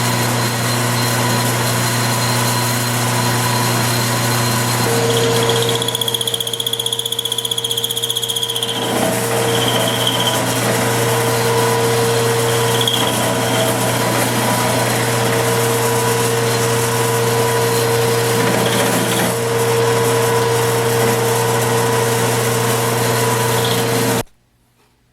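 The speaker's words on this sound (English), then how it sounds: "drill it with the end mill" A center cutting end mill drills into metal held in a vise, a continuous loud machine hum with a high steady whine running unbroken for over twenty seconds before stopping abruptly.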